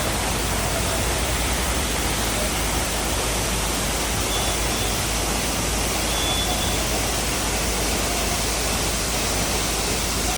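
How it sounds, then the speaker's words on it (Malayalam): Valanjanganam waterfall beside the Kottayam–Kumily road pours as a dense, unbroken roar of falling water, loud and close, holding steady from start to finish. "നമ്മളിപ്പോൾ ഉള്ള കോട്ടയം കുമളി റോഡിലെ വളഞ്ഞെങ്ങാനം വാട്ടർഫോൾസിലാണ്"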